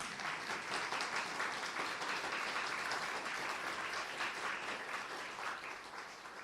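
An audience at a Brahma Kumaris spiritual talk claps together in a steady, dense round of applause that holds evenly for several seconds before easing slightly at the end.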